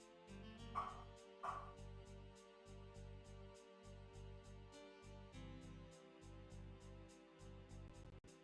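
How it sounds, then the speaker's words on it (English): Dog barking in a JoJo's Bizarre Adventure PlayStation game, two sharp yips near the start over looping chiptune-style game music with a regular pulsing beat, fairly faint overall. "Can y'all hear a dog?"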